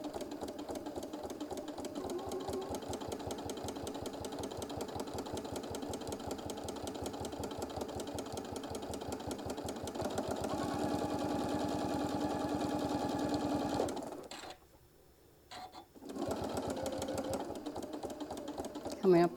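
A sewing machine stitches a mini iron travel case with a fast, steady mechanical whir and clatter, pausing briefly before starting again, close and moderately quiet.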